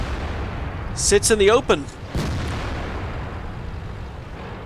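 Tank cannon shots in World of Tanks, a pair of loud booming blasts with sharp metallic ringing tails near the start, followed by a further thud, all over a game commentator's continuous talk.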